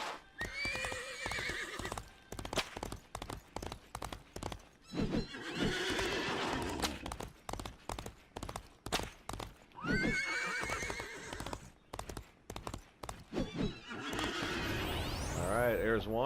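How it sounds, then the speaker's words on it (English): Horses in the Disney Infinity video game whinny and neigh repeatedly while hooves clip-clop in a steady rhythm, loud and close, with game effects and a voice talking in between. "Hey, look, horses."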